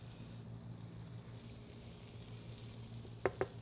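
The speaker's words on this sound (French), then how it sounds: "Quand j'ai mes oignons qui ont commencé à rôtir, j'y rajoute mes poivrons." Onions and peppers fry quietly in a pan, a soft steady sizzle under a low hum, ending with two sharp clicks close by.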